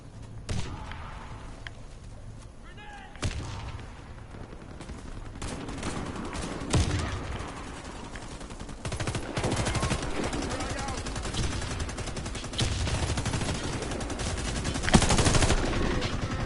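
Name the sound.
gunfire in a video game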